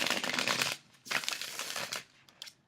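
A tarot card deck is shuffled up close in two quick riffling bursts, crisp papery rustles separated by a short pause, followed by a faint tap.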